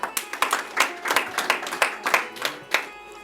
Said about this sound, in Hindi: आप सबकी तालियों के साथ